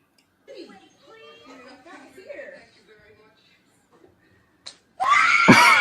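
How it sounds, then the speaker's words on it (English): A woman's scream bursts out loud and sustained near the end of a clip played back from a video, after a stretch of quieter talking. "They said the scream came from the center of her soul."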